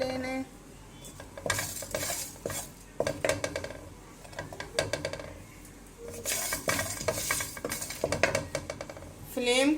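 Masala for chicken korma roasting on a slow flame in a pan, with repeated clinking spoon scrapes and stirring over a soft sizzle, a voice faintly under it.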